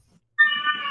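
A house cat gives one clear, close meow that starts abruptly after near silence and holds for a moment before trailing off.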